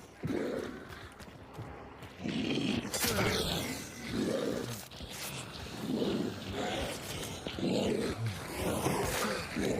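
Dog barks ring out in a video game, several bursts spaced through the stretch amid game noise and rough ambient sound.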